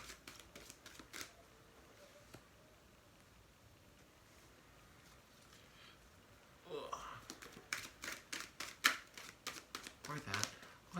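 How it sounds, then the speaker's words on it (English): Oracle cards being shuffled and pulled: a few crisp riffling flicks at first, then quiet, then a quick rapid run of close card snaps and shuffles. "we're going to pull a few oracle cards, and then we will go into the tarot"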